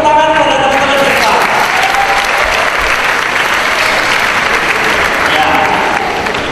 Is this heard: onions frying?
no